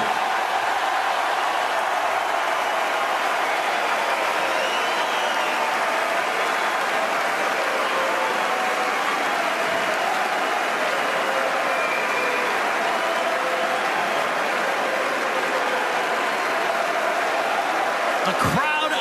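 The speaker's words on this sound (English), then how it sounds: "The crowd on their feet, thunderous applause for these two." Crowd at the French Open 2018 tennis match between Djokovic and Marco giving a thunderous ovation after a point, a sustained roar of applause filling the stadium for the whole span with an announcer's commentary over it.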